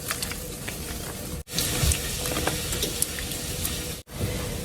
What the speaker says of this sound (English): Now we're going to go ahead and add in our potatoes